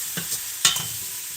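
Onions and celery frying in fat in a pot, a steady close sizzle broken by a couple of quick stirring scrapes.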